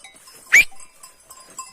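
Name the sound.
flock of sheep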